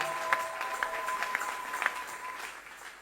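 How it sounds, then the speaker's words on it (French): A church congregation claps and cheers for Jesus during a Sunday morning service, giving fairly faint, sustained applause with a few sharper claps standing out and a quiet murmur of voices. "Acclamez encore fort pour Jésus."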